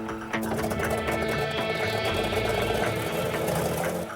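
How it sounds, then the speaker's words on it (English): Outboard motor driving a water pump on its test run: a steady mid-pitched engine drone with whirring machinery, running continuously at moderate loudness, no talk. "The pump is lowered into position for its test run."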